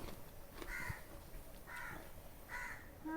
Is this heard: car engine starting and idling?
no